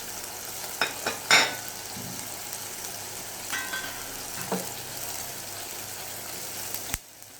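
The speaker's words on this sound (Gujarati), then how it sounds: "હવે એને થોડીક વાર હલાવી મસાલા નાખીએ" An onion and green chilli paste frying in a pan for dum aloo sizzles steadily throughout, with a few sharp clinks and scrapes of a spoon stirring it, close and moderately loud, no talking.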